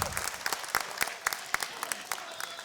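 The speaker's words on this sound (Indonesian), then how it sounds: "para hadirin boleh berikan tepuk tangan untuk seluruh calon ketua umum BPP HIPMI" Audience applause rings out at a HIPMI chair candidates' debate, a steady wash of many hands clapping with sharper individual claps popping through, fairly distant and moderately loud throughout.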